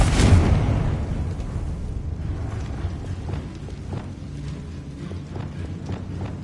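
A Confringo blasting spell explodes in the Hogwarts Legacy video game, opening with a loud, close burst that decays into a rumbling tail scattered with faint clicks and creaks.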